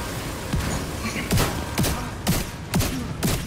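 Several pistol shots fired one at a time at irregular intervals, each a sharp crack, with game background noise throughout.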